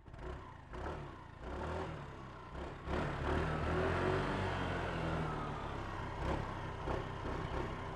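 A Suzuki Access 125 scooter engine revs up repeatedly, close and loud, rising from a low idle into sustained higher revs with a buzzing mid-frequency drone and some rattling, no speech.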